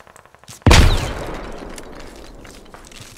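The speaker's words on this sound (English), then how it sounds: "Je lance une grenade." A grenade blast in a video game, one sudden loud boom that rings out and slowly decays, preceded by faint clicks and quiet movement.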